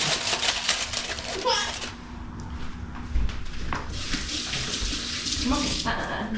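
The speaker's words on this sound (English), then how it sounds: "Rinse your hands there, boy." Tap water running as hands are rinsed in a kitchen, a steady close rush of water that briefly drops out and returns, with voices, including a child's, talking over it.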